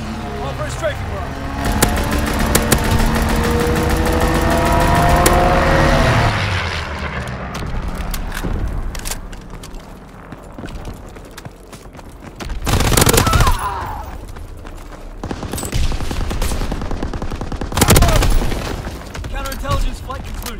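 Fighter aircraft strafing runs in Call of Duty, a loud roar of jet engine and gunfire rising then fading, later followed by several separate heavy bursts of fire and booms, with in-game voices talking between them.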